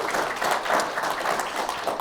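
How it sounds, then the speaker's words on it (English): Audience applause for two panelists at a farm-industry conference session, a steady wash of many hands clapping that fills the full two seconds at moderate volume with no talk over it. "give me a applause here for these two panelists"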